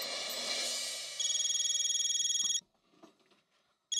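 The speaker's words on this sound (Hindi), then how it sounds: "मैं गणपत बहू को फोन करके यहाँ बुला लेती हूँ." A household telephone gives a long steady pulsing tone, like a ringback or dial signal, that cuts off abruptly, leaves a short quiet gap with faint clicks, then starts again, heard indoors.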